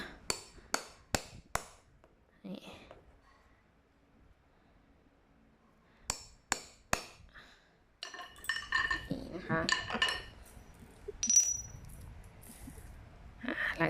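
A tool punches holes through a woven basket for fitting a ready-made handle, sharp clicking knocks in quick bursts with pauses, then busier clattering and handling noise close by.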